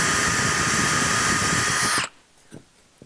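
Electric drill countersinking a dimple in sheet metal: a loud, continuous whirring cut for about two seconds that stops abruptly, followed by faint handling clicks.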